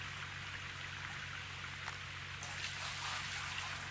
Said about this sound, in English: I'm trying to pour the water out.